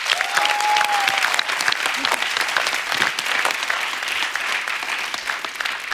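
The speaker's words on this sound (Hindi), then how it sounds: "एक बार जोरदार तालियां होनी चाहिए।" Studio audience on a TV comedy talk show breaks into loud, continuous applause, dense clapping held evenly throughout with a brief whistle near the start.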